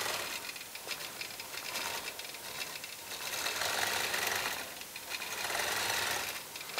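A quilting machine stitches a log cabin quilt block in the ditch, a steady close mechanical whir with a rapid needle rhythm that swells slightly louder midway and carries on without speech.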